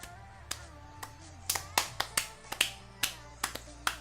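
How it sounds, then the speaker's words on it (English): Several sharp, isolated claps, in the manner of Nicole Kidman's Oscars clapping, land in an uneven rhythm over about four seconds, close and crisp against a quiet room. "Oh, right, the Nicole Kidman clap."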